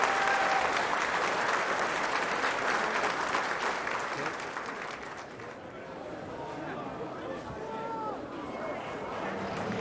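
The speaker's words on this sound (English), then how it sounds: "can we have a massive, massive round of applause for this man for bringing this car here?" Loud, dense applause from a large crowd at a 2005 Volkswagen show, honouring the owner who brought a replica of a 1936 prototype car; the clapping thins slightly midway, with crowd chatter and voices underneath.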